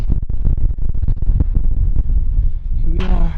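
Strong wind buffets the microphone near the summit of a mountain on the Appalachian Trail, a loud, continuous rumbling roar with gusty pulses throughout, briefly joined at the end by a faint tonal sound.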